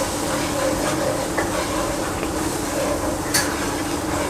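Flour roasting in hot butter in a pan for a white sauce gives a steady, close sizzle with faint spoon scrapes and occasional clinks against the pan, no voices.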